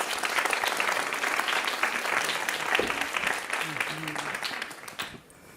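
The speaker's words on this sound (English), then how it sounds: "I'd also ask to give a round of applause to Ra and to our guests who are now joining us." An audience at a talk on curanderismo claps in sustained, dense applause, loud and steady for several seconds before fading away at the end.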